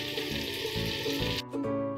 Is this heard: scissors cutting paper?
no